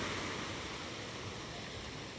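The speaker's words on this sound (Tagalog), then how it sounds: "medyo may alon tayo ngayong umaga." Choppy morning sea waves at the Tanza, Cavite fish terminal, a soft steady wash of surf with no breaks, faint and unbroken throughout.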